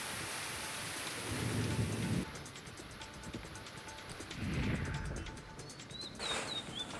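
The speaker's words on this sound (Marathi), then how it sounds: "नवी मुंबईतही सकाळपासून पावसाची रिपरिप सुरू झाली आहे" Heavy rain pours steadily while two rolls of thunder rumble up and swell and fade, loud and close, with a few faint bird chirps near the end; no one speaks.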